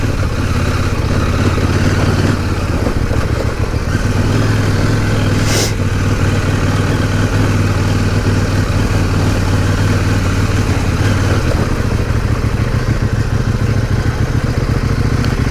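CFMOTO 800 MT Explore motorcycle engine running steadily and loud throughout, a constant low rumble with no talk over it.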